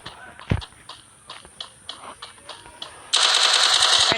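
Rapid gunfire in a shooting video game, a string of sharp separate shots at an uneven pace, followed by a loud, sustained burst of hissing noise near the end, with no talk.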